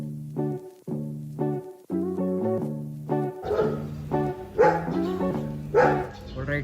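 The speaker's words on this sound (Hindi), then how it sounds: "तो ये कुत्ते भौंकना बंद ही नहीं कर रहे" Dogs bark over and over in loud, close, evenly spaced barks, and a rough, noisier layer of sound joins the barking partway through.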